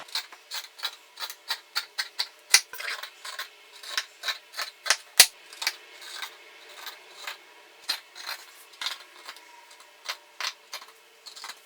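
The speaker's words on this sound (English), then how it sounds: "So let's start by cutting some stuff off." Scissors snip through a white cotton band tee, a steady run of sharp, close cuts at an even rhythm with no talking.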